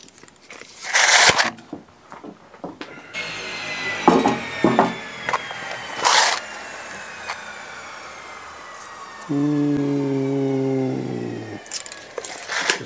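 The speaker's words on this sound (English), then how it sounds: "So we're going to take this same board we got here and cut it down to 19 1/2." A styrofoam board being cut to length by hand, with rough scraping strokes, squeaky rubbing, a few louder bursts and a steady buzzing stretch toward the end, close and fairly loud.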